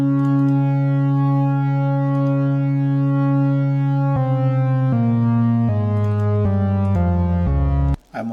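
An FL Studio synth with a sub oscillator plays a long sustained low tone, then shifts through a series of stepped notes, its brightness changing under filter cutoff automation, ending in a short abrupt cutoff.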